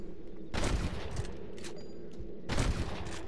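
Gunfire in the video game Red Dead Redemption during a shootout with snipers at Pike's Basin: two loud bursts of rapid shots, separated by a quieter stretch.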